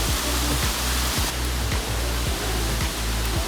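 A waterfall rushes in a steady, dense broadband roar along a hiking trail, loud and close, with low rhythmic thumps from handling and no talk.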